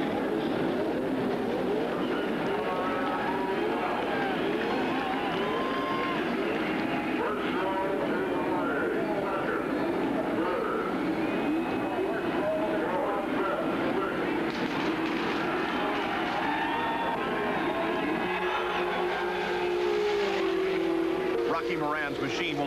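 Race cars pull away behind a Pontiac Trans Am pace car at the 1989 Indy 500, a dense, continuous engine roar with crowd noise throughout, under a commentator's voice.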